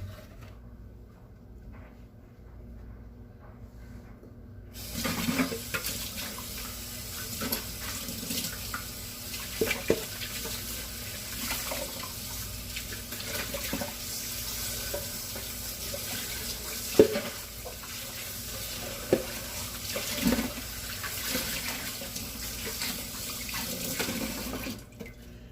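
Tap water runs into a sink as a bundt pan is rinsed, a steady mid-level splashing that starts a few seconds in after near silence and continues with small clinks and splashes to the end.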